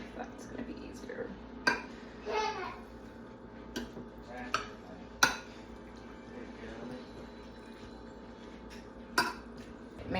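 A spaghetti bake is mixed with sauce in a dish, with soft clinks and scrapes of a utensil against the dish. The knocks are scattered and fairly quiet, with faint room noise and low voices in the background.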